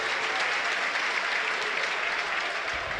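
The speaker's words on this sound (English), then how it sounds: "Huddersfield applaud it." Steady crowd applause fills Turf Moor at a Burnley v Huddersfield FA Cup third round match, a dense, even roar of clapping from a large stadium crowd with no break.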